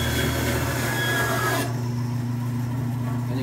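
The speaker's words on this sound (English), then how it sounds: "So I turn on my bandsaw, I'll cut off this end." A bandsaw cuts the end off a wooden board in a workshop: a loud, rasping cut for about a second and a half, then the motor keeps humming steadily after the blade clears the wood.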